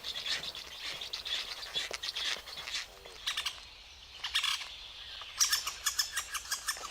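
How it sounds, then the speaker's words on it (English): Black stork nestlings call at their nest at feeding time in Poland, a series of repeated high, raspy begging chirps in rhythmic bursts over a faint woodland background. "Feeding time at the black stork's nest."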